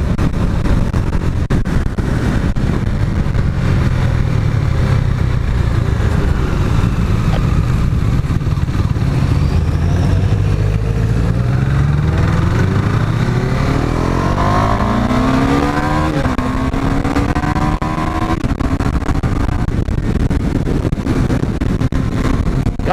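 A loud KTM Duke 390 motorcycle engine roars continuously, revving up and down as the pitch climbs and falls through gear changes, speeding around a track-day circuit.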